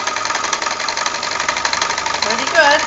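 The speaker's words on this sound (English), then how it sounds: "Now it's time to connect the overlocker back up to the power, and we'll give it a little test to see if the belt is enough." A Janome sewing overlocker runs fast and steady after its drive belt is tightened, giving a close, even mechanical whirr with rapid stitching clatter, with a voice briefly heard near the end.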